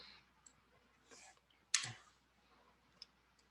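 Computer mouse clicks at a desk while working in Autodesk Maya, a few light scattered clicks with one sharper, louder click in the middle, close and quiet with no speech.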